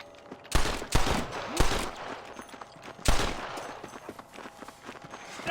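Several sharp gunshots ring out in Red Dead Redemption, a few spaced bursts close and loud over a noisy shootout background, with further fainter shots trailing after.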